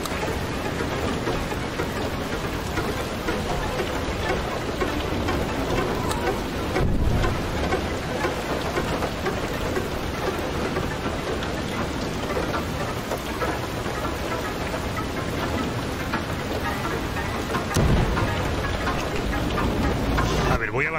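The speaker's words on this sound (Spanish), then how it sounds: "El granizo ese estará dañando el vehículo." Hail pelting a vehicle during a storm in the adventure game Far: Lone Sails, a steady dense patter of impacts with low rumbling underneath, continuous and fairly loud throughout.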